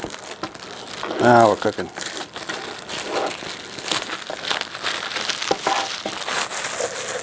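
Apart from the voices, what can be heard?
plastic wrap and foil crinkling while unboxing a mini PC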